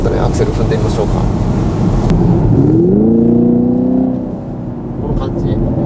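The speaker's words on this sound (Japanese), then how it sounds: "ちょっとねアクセル踏んでみましょうか。" A Chevrolet Camaro SS with a 6.2L V8 in sport mode revs up, its engine note climbing in pitch and then dropping back to idle, heard from inside the car with talking.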